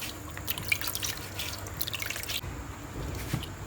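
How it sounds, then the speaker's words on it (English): Water running and dripping as portioned yam is washed in a sink, a close, light trickle with scattered splashes and drips that eases off partway through. "I have portioned my yam and I'm washing it"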